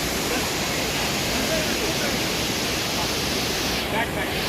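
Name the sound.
waterfall in Munnar, Kerala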